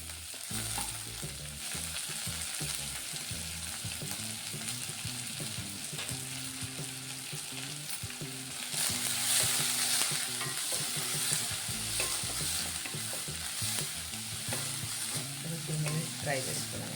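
Onions and cumin fry in hot oil in a pan, giving a steady close sizzle with spatula stirring and scraping throughout, growing a little louder partway through.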